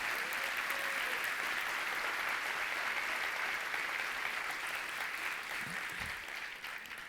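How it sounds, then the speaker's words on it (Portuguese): A church congregation applauds during a sermon in a steady, fairly soft sheet of clapping that holds for several seconds and eases slightly near the end. "Você pode aplaudir mais forte, melhor do que isso?"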